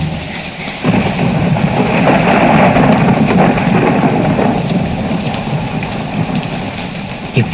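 Heavy rain pours in a dense, loud, continuous wash with occasional sharper drops, steady from start to finish.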